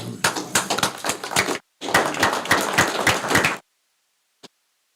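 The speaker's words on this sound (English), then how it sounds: "give them a round of applause" Applause in a county board of commissioners meeting for a couple marking 52 years of marriage, a burst of clapping with a brief gap, then a second stretch of clapping before it stops and the room falls quiet.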